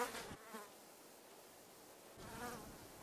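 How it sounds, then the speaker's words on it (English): A fly buzzes in short bursts, loud at the start, fading away and then returning in a second wavering buzz near the end, in an otherwise quiet room. "After a minute of nothingness, of silence interrupted by the buzzing of a fly, Thomas asks,"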